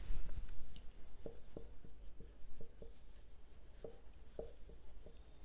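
A pen scratches on paper during accounting homework, making a run of short, quiet strokes and taps in an uneven rhythm, close up and alone.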